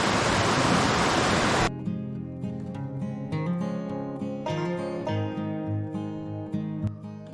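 Broadband rushing river water dominates the opening seconds, then gives way to a quieter scene in a dense sacred forest with steady background music-like tones and a soft continuing flow.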